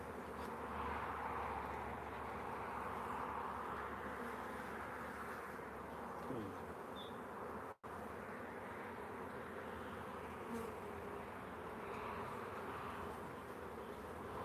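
Honeybees buzz steadily during an open hive inspection, a faint, continuous drone of many insects with no talking.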